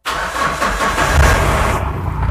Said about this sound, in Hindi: अभी हम गाड़ी को क्रैंक करते हैं।